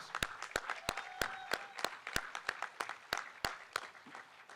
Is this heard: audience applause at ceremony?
yes